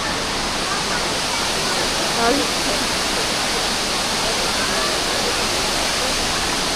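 Tumpak Sewu waterfall in Indonesia roars as a dense, steady wash of falling water, loud and close, with a brief exclamation from a person partway through.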